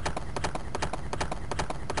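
Horse-riding stage in a Sega Genesis video game: rapid, evenly spaced synthesized hoofbeat clip-clops, loud and continuous, with no talking.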